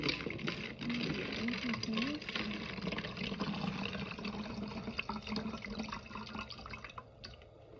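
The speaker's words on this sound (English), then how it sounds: "pour some water into this bottle" Water pours steadily through a funnel into a bottle for several seconds with a hollow, filling gurgle, heard alongside a person talking.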